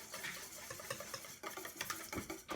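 A whisk stirs vanilla into a goat milk ice cream base, making a faint, continuous patter of soft scraping and swishing strokes with a steady rhythm. The sound is close and low, with no voices.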